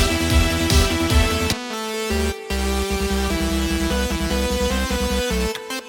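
A bright, buzzy synth lead plays the castle theme from the Nomad Survival soundtrack over thick layered tones, steady and loud with brief drop-outs between phrases, no voices.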